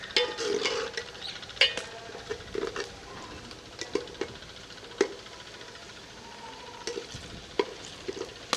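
Onions frying in a pan until golden for an achari chicken curry, a soft continuous sizzle punctuated by frequent sharp scraping clicks of a spoon stirring against the pan, fairly quiet and close.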